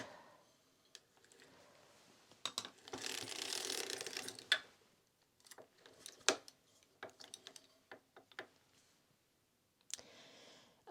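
A hand-cranked circular sock machine knitting heavy ribbed boot socks from sport weight yarn, with close ratcheting clicks and mechanical clatter, a brief whirring run, then irregular clicks and taps.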